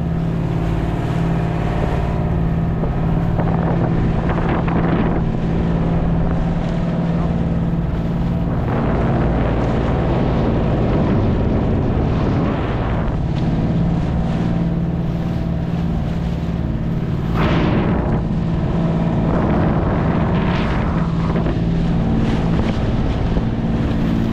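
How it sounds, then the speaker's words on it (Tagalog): Steady, loud wind rumble buffeting the microphone over a constant engine drone, with gusts swelling and easing throughout. "Malakas na ng hangin"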